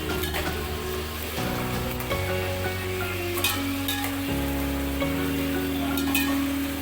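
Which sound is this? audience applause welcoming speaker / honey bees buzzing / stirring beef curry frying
stirring beef curry frying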